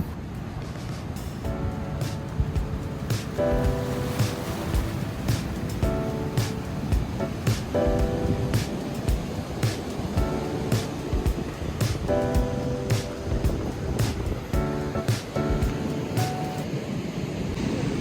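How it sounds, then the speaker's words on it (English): A boat's engine drones steadily over a lake between islands at Bentota, Sri Lanka, with a dull rumble and repeated hull thumps, wind and spray running throughout. "We are going there by a boat since there is a lake in between both the islands."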